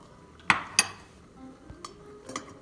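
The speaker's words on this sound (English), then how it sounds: "Stir that evenly." A utensil stirs lemon juice into a pot of classic Alpine cheese fondue, giving two crisp metallic clinks followed by softer, quieter scraping and tapping against the pot.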